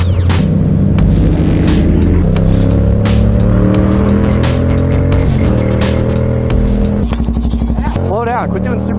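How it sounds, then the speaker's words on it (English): A supermoto motorcycle's engine revs loud and close while the rear tire spins hard, with a rising, fluttering pitch and a scrubbing rasp toward the end. "I spun the tire hard there"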